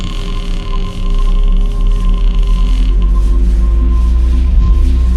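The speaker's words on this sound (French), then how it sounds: "alors que lentement, la porte s'entrouvre" A door creaks slowly open as a horror-story sound effect, a loud, drawn-out grinding creak over a deep sustained rumble, rising and pulsing steadily with no voices.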